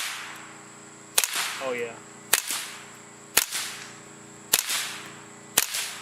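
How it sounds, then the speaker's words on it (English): Suppressed .22LR rifle firing Federal Auto Match ammunition at supersonic velocity, five sharp cracks spaced roughly a second apart, each with a short ringing tail over a steady background hum; someone speaks briefly near the first shot. "you can clearly hear the crack of them reaching the supersonic velocities"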